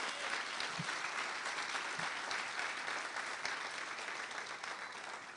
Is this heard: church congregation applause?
yes